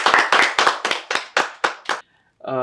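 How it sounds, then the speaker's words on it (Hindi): Roughly eight distinct, close, loud claps in a quick uneven rhythm, a small group clapping during an interview rather than a full crowd, followed by a brief silence and then a voice starting to speak. "तालियां हो जाए एक बार"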